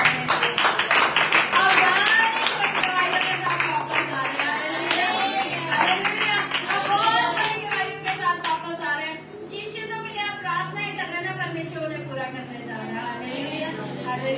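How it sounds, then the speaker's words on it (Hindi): A church congregation at a Sunday service claps loudly and rhythmically while voices talk and call out over it, the clapping strongest early on and easing slightly later. "जोरदार तालियां बजाएं।"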